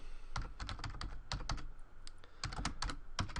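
Keystrokes clatter on a computer keyboard while a name is typed into a note-taking program, several quick bursts of clicks separated by short pauses, close and clear with no talking.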